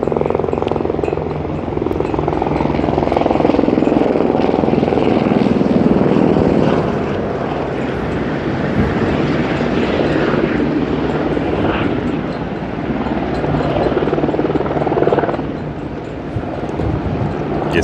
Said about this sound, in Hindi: अभी मैं आपके साथ ये बात कर ही रहा हूँ तो ये सामने एक हेलीकॉप्टर आ रहा है।